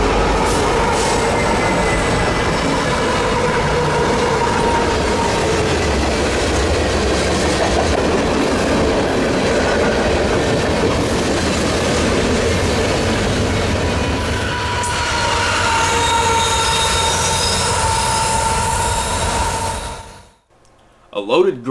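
A Kansas City Southern freight train climbs Rich Mountain, a loud continuous rumble of rail cars with clickety-clack and some wheel squeal passing close, ending abruptly near the end.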